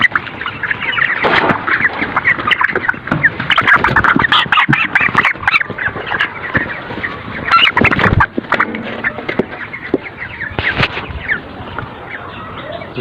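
Broiler chickens on a farm cluck and squawk loudly and continuously while being caught by hand, with flurries of wing flapping and overlapping agitated calls close by.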